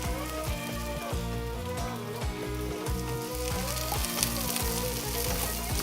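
Onions and peas with a pinch of salt fry hard in a pan, a loud, continuous crackling sizzle close up with a steady rhythm of stirring pulsing underneath.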